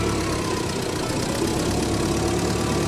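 A 100-year-old Ford Model T engine runs steadily in the snow, producing a constant loud, rough mechanical drone that continues throughout without talk.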